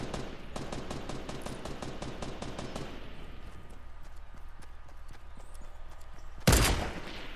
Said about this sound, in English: Who fucking shooting?